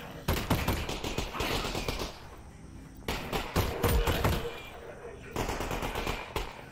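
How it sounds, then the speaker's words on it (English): Rapid bursts of automatic gunfire in the VR shooter Half-Life: Alyx, loud and close, arriving in several sustained volleys separated by short pauses. "Who's shooting?"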